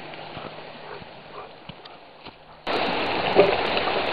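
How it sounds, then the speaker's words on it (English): A spring-fed creek on an Alaska homestead runs low and muffled at first, then swells suddenly into a loud, steady rush of flowing water filling the rest of the moment. "I don't know how well you can hear me over the sound of the creek"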